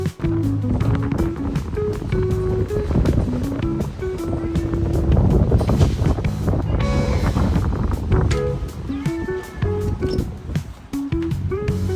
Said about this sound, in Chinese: 突然刮大风了